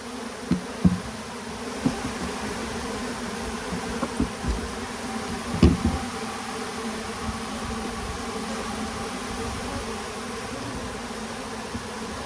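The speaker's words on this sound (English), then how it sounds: "You can make bees march without catching a swarm." Steady, dense buzzing of many honeybees up close, with a few soft knocks and thumps from handling a hive box.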